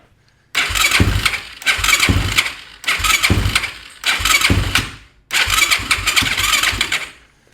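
Yamaha YFZ450 quad with choke pulled, cranking in five loud, close bursts of roughly a second each, separated by short pauses, without catching.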